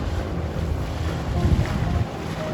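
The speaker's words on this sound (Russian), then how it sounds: "Вот, ребята, мы сейчас едем, полный газ. Лодка на глиссере." A nose-heavy motorboat runs at full throttle, planing on the Vym river. Its steady roar is mixed with strong wind buffeting and water rush, with no talking.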